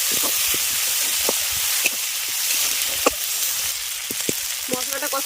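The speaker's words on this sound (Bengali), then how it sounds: "আদা আর জিরেটাকে কিছুক্ষণ ভেজে নেওয়ার পর দিয়ে দিচ্ছি টমেটো কুচি লঙ্কার গুঁড়ো লবণ এবার মশলাটাকে খুব ভালো করে কষিয়ে নিই" Constant loud sizzling comes from a spice paste frying in a pan with ginger, cumin, chopped tomato, chilli powder and salt. Scattered scraping and stirring clicks sound through the steady crackle.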